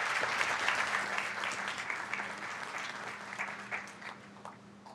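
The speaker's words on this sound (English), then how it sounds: "if we could give them a round of applause" A round of applause at a town council meeting for visiting scouts and their leaders: steady clapping from a room full of people that slowly fades.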